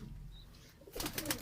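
A female pigeon on a rooftop loft gives a soft, close coo, faint at first and then swelling into a fuller, breathy burst of cooing at the end.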